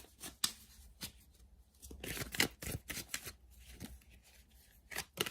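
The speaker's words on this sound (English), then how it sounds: "Let's lay out a couple cards from the universe." Tarot cards are shuffled and laid out on a surface: quick bursts of riffling and flicking with a few sharp slaps, close and fairly quiet, with short pauses between.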